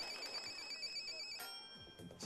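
A telephone rings as a call is put through live on a Chinese TV game show, a steady electronic ringtone with bright repeating tones over studio background noise.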